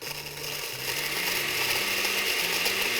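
Blender running uncovered while blending dried pumpkin, a steady loud mechanical whir with a rattling, grinding texture that holds for the full few seconds with no talking.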